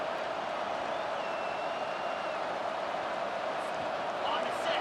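Stadium crowd at an Oklahoma versus Wisconsin college football game, a dense, steady roar of cheering that fills the whole clip at a constant loud level with no break.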